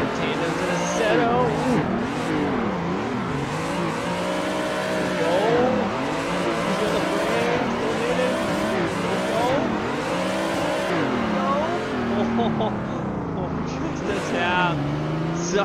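In the Assetto Corsa racing game, cars drift in tandem with continuous revving engines, shifting pitch and squealing tyres, while a person talks over the game sound throughout.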